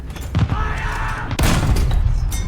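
Tank cannon fire in War Thunder: a heavy gunshot boom with a sharp broadband crack about midway, preceded by a weaker thump and a steady rumbling engine bed throughout, loud and close.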